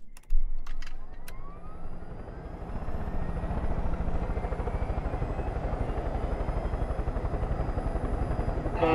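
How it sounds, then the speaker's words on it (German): A helicopter in the video game Far Cry 5 starts up after a sharp thump, its rotor chop building into a loud, steady rhythmic beat that continues to the end. "Komm, wir machen es mit dem Hubschrauber."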